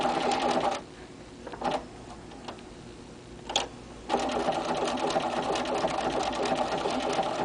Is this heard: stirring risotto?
no